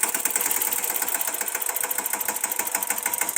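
A tractor engine runs in a field of standing groundnut crop, putting out a rapid, even mechanical chatter with rhythmic knocking, close and loud, with no voices over it.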